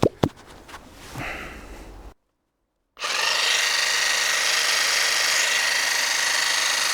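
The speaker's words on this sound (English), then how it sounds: "Where's the jigsaw?" Jigsaw cutting through a campervan body panel to make a window opening, starting after a short silence and running as a loud, steady buzzing saw that continues to the end, preceded by some handling knocks.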